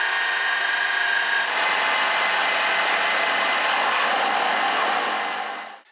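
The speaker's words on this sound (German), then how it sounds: "Sowas geht natürlich nur auf einer Standbohrmaschine, weil die zwei Löcher schon überlappen." A drill press cuts overlapping holes in wood for a corner bench seat, a steady loud whine and grinding hum that holds continuously, close up, then spins down and stops at the end, no voices.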